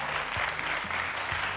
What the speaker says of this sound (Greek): Χριστίνα, με ένα χειροκρότημα για τη Χριστίνα, παιδιά.